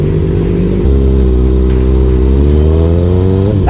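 A car with a broken hood, having just struck a motorcycle, revs loudly nearby, its engine droning at a steady pitch before climbing as it pulls away, with no voices over it.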